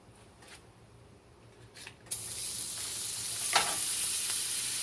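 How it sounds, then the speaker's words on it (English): Butter goes into a hot pan for pan-fried flounder with caper sauce; after two quiet seconds a sudden bright sizzle erupts and holds as a steady, close hiss. "you're going to put 1 more tablespoon of butter in there"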